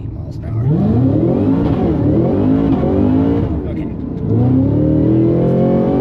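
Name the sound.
Cadillac CT5-V Blackwing engine accelerating hard from a dead stop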